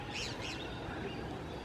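Wild Senegal parrots in The Gambia giving two quick, shrill calls near the start, then fainter chatter over a soft outdoor background of rustle and distant noise on a farm with kapok and palm trees.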